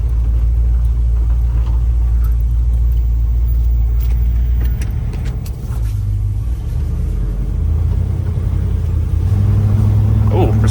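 A 1977 Chevrolet C10 pickup with a 454 V8 and Holley Sniper 2 EFI pulls away on its first drive, deep engine rumble loud and close, rising and settling with throttle, a voice talking over it at times.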